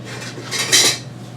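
Metal utensils clatter and jingle as they are shuffled around, a brief rattling burst swelling and fading within a second.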